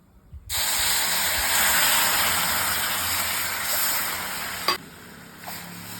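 Water poured into roasted semolina for mango kesari bursts into a loud, steady hiss and sizzle while being stirred, fading near the end with a brief clatter.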